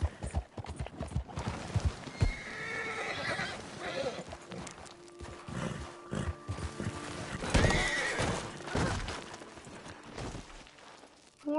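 A horse neighs and whinnies amid clip-clopping hooves, with loud, busy hoof sounds throughout and a voice speaking briefly over them.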